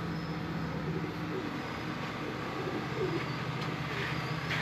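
A golden pigeon coos softly amid steady low background hum and ambient noise, the calls faint and blended into a continuous murmur.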